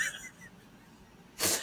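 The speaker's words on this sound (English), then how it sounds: "Oh wait, I have to sneeze." A single sharp sneeze bursts out near the end, loud and close, after a short stretch of quiet room tone.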